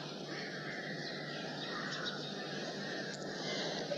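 Crows caw outdoors among trees, a few scattered harsh calls at moderate distance over a steady noisy background.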